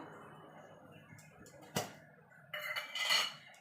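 A metal kadai set down on a gas stove burner in a home kitchen while making rabri, heard as a single sharp clank followed by lighter metallic rattling and scraping, close and fairly quiet.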